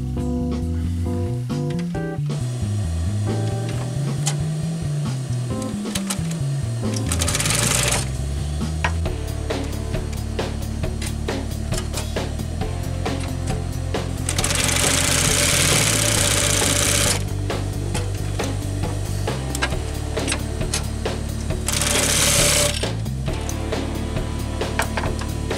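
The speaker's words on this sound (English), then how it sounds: "we'll put the right side together and we'll start sewing it." A sewing machine stitches upholstery fabric pieces together for a crystal tufted furniture backdrop, its motor running steadily and close up in several bursts, with short high-speed runs and pauses between seams.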